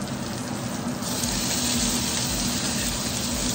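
Ginger dropped into a hot pan sizzles with a loud, steady, close crackling hiss that brightens slightly after the first second and holds without a break.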